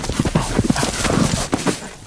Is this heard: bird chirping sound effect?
no